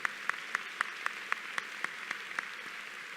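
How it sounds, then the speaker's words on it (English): Applause for graduate students at a university education school commencement ceremony: a steady run of evenly spaced sharp claps, about four per second, moderately faint over a soft hall ambience. "let's give a round of applause for all the students who've been balancing that work."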